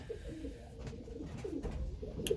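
Racing pigeons, including a checker hen, coo steadily in a loft, with soft repeated low calls close by and occasional faint chirps.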